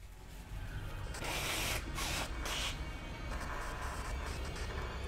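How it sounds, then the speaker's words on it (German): A person blowing their nose, a loud, breathy spray of air in a few strong bursts that sits up close over a steady low background hum from a game. "Oh nein, ich muss mir die Nase putzen"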